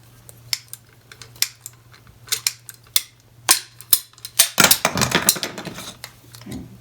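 A ratcheting cutter clicks repeatedly as it closes on a small piece of hula hoop tubing, sharp isolated ticks speeding up into a dense cluster of snapping clicks before the cut, close and clear.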